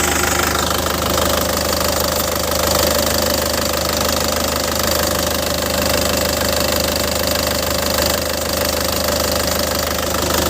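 A 2012 LS Turbo car engine, already warm, runs steadily at idle with a dense, slightly knocking mechanical clatter, recorded close and loud with no talking.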